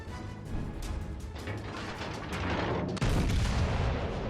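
Battleship Warspite fires its main guns in World of Warships Legends, with heavy booming salvos layered over a continuous rumbling roar of battle, growing louder and denser toward the end.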